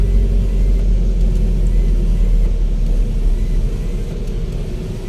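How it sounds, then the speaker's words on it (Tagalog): Road traffic in a congested area, a loud continuous low rumble of engines and tires from vehicles inside a car, steady throughout with no speech. "Traffic na."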